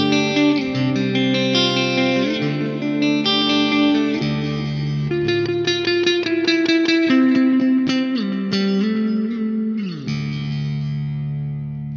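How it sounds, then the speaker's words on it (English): An electric guitar with humbuckers plays through the Neural DSP Archetype Nolly X plugin on a clean tone: ringing strummed chords and arpeggiated notes with chorus-like shimmer and reverb, loud and alone for about twelve seconds. "And that's my clean tone."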